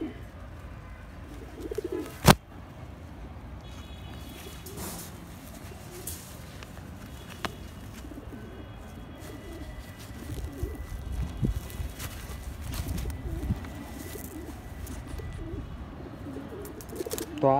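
Racer homer pigeons coo in a loft, a steady low murmur of calls that persists throughout, with a sharp clack near the start and faint voices in the background.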